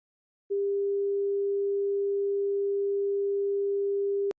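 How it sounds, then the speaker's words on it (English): A pure, steady sine tone generated in SuperCollider holds at one pitch for nearly four seconds, then stops abruptly with a faint click, with silence before and after. "So let's just play this again, and it gives us this sine wave."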